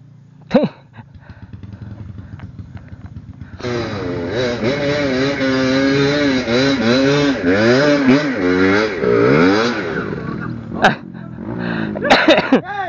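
A motorcycle engine revs up and down in rising and falling sweeps for several seconds, loud and close beside a canal, with a few sharp knocks before and after and voices nearby.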